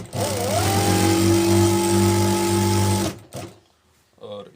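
Sewing machine stitching the edge of a gent's suit: a loud, close, steady mechanical whir for about three seconds that then stops, followed by a few brief quieter sounds.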